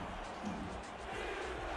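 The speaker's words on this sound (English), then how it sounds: "Sioux Falls crowd trying to get loud" A football crowd in Sioux Falls during a game against Tulsa, a steady roar of many voices building and sustained at a distance, with broadcast commentary layered on top.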